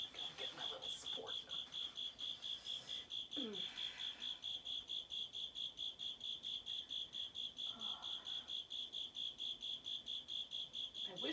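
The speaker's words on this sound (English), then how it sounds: "It's probably a cricket." A cricket chirps inside an apartment, a rapid steady trill pulsing in regular bursts from start to finish, clear and fairly close in an otherwise quiet room with a few faint soft movements.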